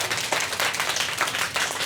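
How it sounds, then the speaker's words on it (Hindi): Children at the Savitribai Phule school of Shaurya Seva Sansthan in Jaipur clap loudly together, a dense, steady burst of applause with no talking over it. "तो एक बार जोरदार तालियों के साथ अपना उत्साह बताओ।"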